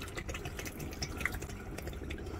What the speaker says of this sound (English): I've just put it into this bin with, so far, 8 litres of water